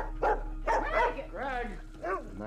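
A dog gives several short barks and yips in quick succession at moderate loudness, with a faint steady hum underneath.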